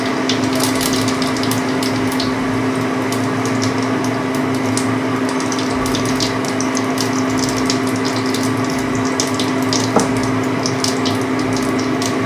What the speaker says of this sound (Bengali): তেল গরম হয়ে গেছে। এবার শুকনো লঙ্কা আর জিরেটা কড়াইতে দিয়ে দেবো।